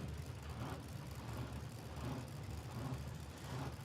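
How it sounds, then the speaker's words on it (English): Drag racing cars, a Mustang and a big XB, idle on the start line with a steady, lumpy low engine rumble that stays constant throughout, heard from a distance with no voices over it. "Tough sounding cars down there on the start line."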